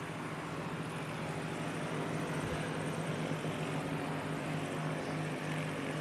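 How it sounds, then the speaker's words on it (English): Diamond DA42 Twin Star light twin-engine aircraft just started up nearby at Christchurch Airport on a foggy day. Steady, loud propeller engine drone with a constant even roar and a low hum throughout, no speech. "Just started up next to me. What have we got here? Diamond 42 Twin Star."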